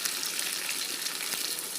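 Mutton head curry with ginger, garlic, black cardamom and salt sizzles in an open wok, giving a steady, close hiss of frying with no voices over it.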